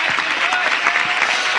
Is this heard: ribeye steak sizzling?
no